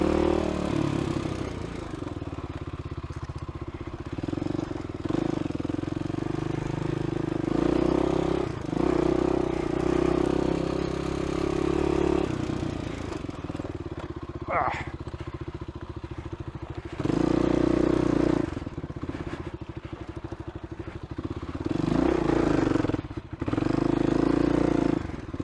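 A dirt motorcycle labours in second gear over rocks in Warner Valley, its engine note bogging and surging continuously, with clattering thumps from the terrain and wind buffeting throughout.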